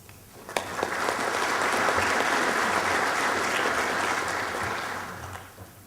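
An audience at a fire-safety standards talk breaks into steady applause to welcome a speaker. It swells quickly, holds full and even for several seconds, then tapers off, with no voices over it.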